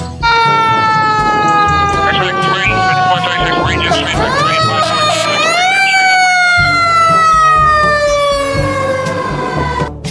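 A loud toy fire engine siren wails continuously, its electronic tone sweeping up and down, with a steady whirring hum underneath.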